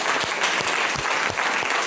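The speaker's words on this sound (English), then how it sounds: "Can we give them a round of applause?" A community meeting audience gives a loud, dense round of applause, many hands clapping steadily and close, continuous for the whole stretch with no talking over it.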